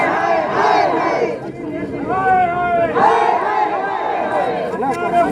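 Large crowd gathered outside MLA Kamal Gupta's house, loud overlapping shouting and chanting voices rising and falling in waves, close and continuous throughout.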